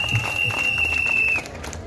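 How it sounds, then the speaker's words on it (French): Crowd applauding at an RHDP political rally in Côte d'Ivoire, a dense burst of clapping over a steady high-pitched tone that cuts out, leaving the clapping to carry on a little softer. "je vous demande de l'applaudir très fort Cissé Aboubakari"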